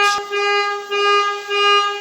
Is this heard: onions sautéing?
no